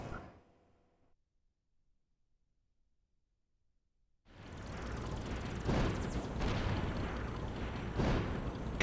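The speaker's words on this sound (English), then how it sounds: "Okay, we destroyed the airship." An airship being destroyed in the Super Mario Wonder video game: after a brief sound and several seconds of near silence, a loud burst of explosions and crashing effects starts suddenly and continues to the end.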